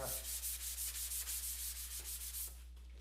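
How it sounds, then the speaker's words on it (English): Sanding a metal table by hand, steady rapid back-and-forth rubbing strokes close up over a low constant hum, easing off near the end with no speech. "I'm going to go ahead and sand this table a little bit"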